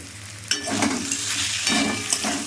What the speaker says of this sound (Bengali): আলুটা আবার নেড়ে দিলাম 3 মিনিট পর যাতে না পুড়ে যায়